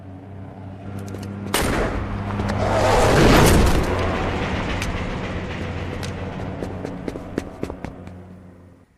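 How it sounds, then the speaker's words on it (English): A big explosion in the video game Saints Row booms out and swells into a long rumbling roar, then trails off into scattered crackling debris and sharp clicks, fairly loud with no speech over it. "That was a hell of an explosion."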